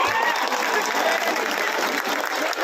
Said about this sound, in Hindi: भैया का जोरदार तालियों के साथ आप स्वागत करिए।